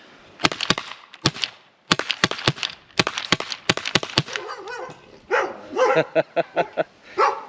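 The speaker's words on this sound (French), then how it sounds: "J'ai dérangé mes chiens." Several dogs bark near an outdoor shooting spot, a run of sharp, loud barks in quick bursts followed by higher yips and whimpering calls toward the end.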